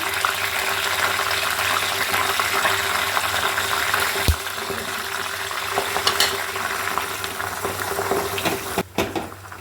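Leaves fry in hot homemade hair oil in a pan on a gas stove, giving a continuous loud sizzle and bubbling with a few sharp clinks and pops, and no one talking.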